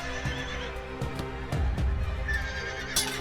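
A horse neighs in a fantasy roleplay setting, a close whinny with rattling breaths and a few hoof clip-clops, brief knocks punctuating the sound.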